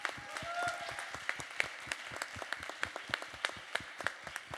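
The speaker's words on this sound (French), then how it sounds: "On peut les applaudir bien fort." Audience applauding award winners at a French strategy and influence prize ceremony, a steady round of clapping with sharp individual claps over a dense crowd wash, fairly distant in a large hall.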